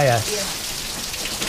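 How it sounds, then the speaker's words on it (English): Torrential typhoon rain in Naga City, Philippines pours down as a steady, loud hiss, with a brief voice heard at the very start. "The rain is just not stopping. Because it's a typhoon, it's torrential."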